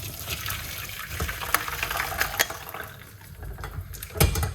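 Liquid is poured off from a container in a kitchen, a close, soft splashing gush with a few small clinks, steady and unaccompanied by talk.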